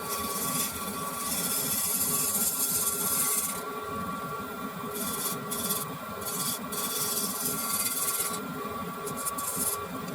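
A cracked wooden vase turning on a lathe as it is trued up, a continuous rough scraping and rubbing drone over the steady motor hum, close and even for about ten seconds, with no talking.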